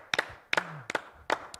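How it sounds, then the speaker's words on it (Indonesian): Several sharp claps in short pairs and bursts, spaced apart, from a small audience at a Christian gathering, with a faint low voice briefly between them. "Tepuk tangan dulu dong."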